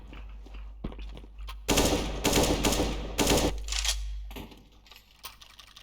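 Counter-Strike gunfire cracks out in rapid automatic bursts, loud and close, with shorter single shots and clicks around them.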